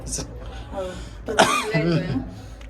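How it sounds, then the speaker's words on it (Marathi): A couple of short coughs and throat clearing close to the listener, mixed in with a brief voiced sound. "बोलताना थोडा खोकला येतो"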